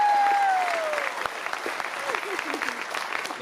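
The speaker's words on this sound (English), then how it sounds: "Give them a huge round of applause." Audience in a cruise ship theatre applauds the sound, lighting and technical crew, a broad steady wash of clapping that fades slightly after a brief opening tone, with faint voices underneath.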